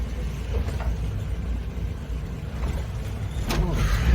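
A Suzuki Samurai engine idling low and slightly rough, a steady deep rumble close by that holds throughout with no revving.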